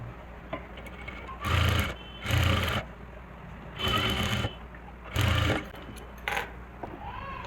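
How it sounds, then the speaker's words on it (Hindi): A sewing machine stitches a salwar seam in four or five short bursts of rapid mechanical whirring, each lasting under a second, separated by quieter pauses with faint handling noise. "अब एक सिलाई इसके पास से लगा देंगे और एक सिलाई इसके पास से लगा देंगे"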